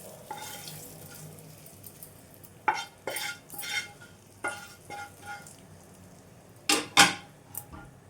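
A spoon stirs tempering through tamarind chutney, with scraping and clinking bursts against the pot coming in uneven strokes and short pauses over a low background hiss. No one talks.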